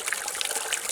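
A running stream on the Ouachita Trail in winter gives a brief, steady wash of flowing water, close and fairly loud, with no voices.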